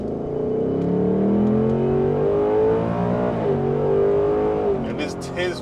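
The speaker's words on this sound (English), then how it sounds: "on the downshifts, man, you get a couple of snaps, you get a couple pops, man. That active exhaust, it is in track mode." 2024 Mustang GT with active exhaust in track mode and a 10-speed gearbox, loud engine notes climbing and dropping through quick gear changes, close and continuous, with a few sharp crackles near the end.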